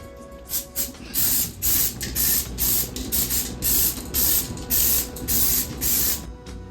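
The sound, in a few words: cooking spray sprayed into muffin tin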